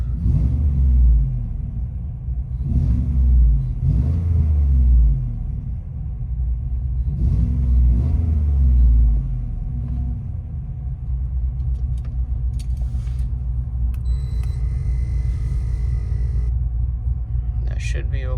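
Deep rumbling idle and a few low blips of a cammed GMC Sierra 6.2L V8 with headers and exhaust valve closed, heard from inside the cab, muffled and steady, with someone talking over it.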